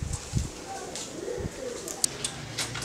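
Pigeons at a pigeon coop coo softly in low repeated throaty notes, with faint chirps and small clicks scattered over a quiet background.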